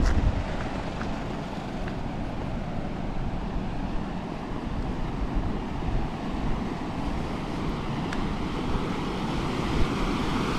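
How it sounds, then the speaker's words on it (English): The Blackwood River flows under a small bridge in a steady, even rush of water, with a gusty wind texture on top and no voices. "See the water flowing that way through the bridge."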